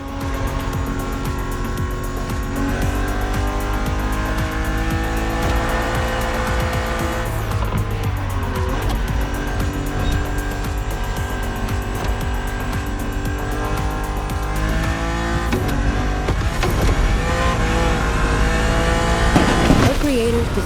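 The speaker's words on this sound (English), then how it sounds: "I own the car you're driving." BMW car racing in The Crew Motorfest game, engine droning and revving with shifting pitch, tires squealing in skids, loud and continuous over background music.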